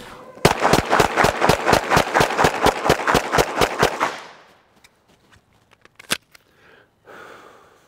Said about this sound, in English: Steve Fisher of Sentinel Concepts is going to talk about shooting moving targets.